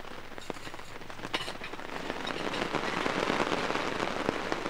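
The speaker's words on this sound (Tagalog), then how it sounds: "nasampulan na agad ng malakas na ulan" Heavy rain drums on a tent pitched at a beach campsite, a dense, steady patter with scattered sharper drops that swells louder as it goes on, with no talking.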